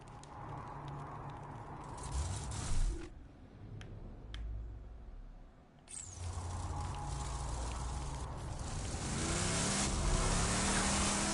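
Car engine in Borderlands 2 VR, revving and droning loudly, dropping away briefly with a few sharp clicks before the engine surges back to a steady roar.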